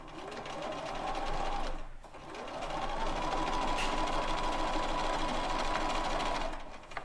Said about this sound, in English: I'm just going to sew straight to that